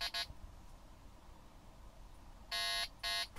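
An electronic carp fishing bite alarm by a mountain lake beeps in sharp bursts: one short tone at the start, then two longer beeps near the end, over quiet outdoor ambience.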